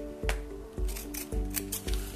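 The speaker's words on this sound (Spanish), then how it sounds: "Lo pegamos y cortamos el excedente." Scissors cut away excess paper on a scrapbook mini album page: four crisp, close snips spaced about half a second apart, loud and clear with no voices.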